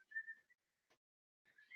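A short, faint whistled tune of a few sustained notes, a brief pause, then more whistling, heard up close in a quiet setting, from a Walking Dead TV episode.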